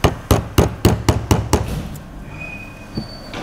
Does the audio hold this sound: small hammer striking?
yes